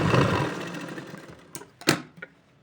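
A sewing machine stitches darts and tucks on a baby blouse, running in a close, steady whir that fades out after about a second, followed by a few sharp clicks and handling knocks.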